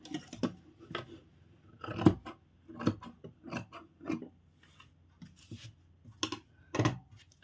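Scissors snipping away excess fabric after double stitching on a gathered blouse, a run of short crisp cuts in an irregular rhythm, close and fairly quiet, with no talking.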